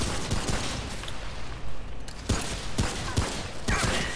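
Scattered gunshots in the Remnant: From the Ashes video game, several sharp cracks over a few seconds against busy game ambience, fairly close and irregular.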